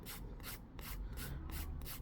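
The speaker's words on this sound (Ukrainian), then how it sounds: "коли я пиляю цією частиною пилки середньої" A hand saw cutting through a square wooden piece, steady back-and-forth rasping strokes about four per second, close and even, with no speech.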